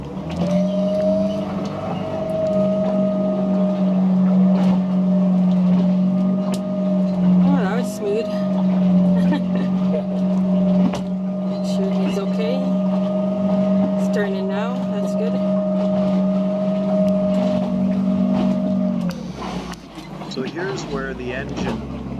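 A boat's motor drones steadily off a beach as it heads away, holding an even, fairly loud hum for most of the stretch before cutting out near the end, with people talking over it.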